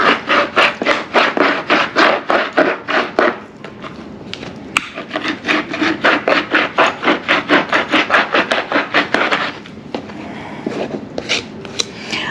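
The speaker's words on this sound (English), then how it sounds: "twist, squish, until you hear the seeds grinding" Cherries being twisted and squished during pitting give a rapid series of close, rhythmic grinding and rubbing strokes as the seeds scrape, with brief pauses between bursts and no talking.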